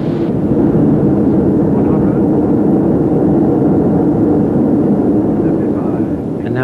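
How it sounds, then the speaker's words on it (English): Jet airliner engines roaring in reverse thrust just after landing, a loud, steady, broad rumble heard from inside the cabin that holds throughout. "after landing, to save wear and tear on the brakes, we do use our engine's reverse thrust, and it does make rather an awful noise"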